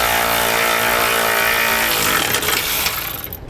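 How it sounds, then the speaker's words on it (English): A power drill bores holes for a helper spring bracket on a 2018 Thor Windsport motorhome, a loud, continuous whining motor close by that wavers and sputters toward the end, with no voices. "make sure that the bracket doesn't vibrate around while drilling out my top holes"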